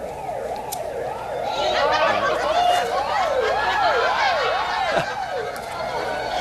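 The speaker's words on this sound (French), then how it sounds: "OK, là, c'est l'ambulance." An ambulance siren wails in a loud, repeating rise-and-fall pattern close by on a street at night, with a few brief voices around it.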